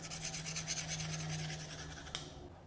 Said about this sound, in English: actually pop these bottles off and do some actual sanding